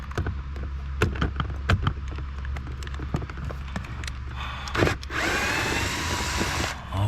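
A power tool, likely an impact wrench, breaks loose the last bolt under an Audi Q7 3.0T during a front blower motor repair, firing in short bursts before a longer sustained whir, with shop noise around it.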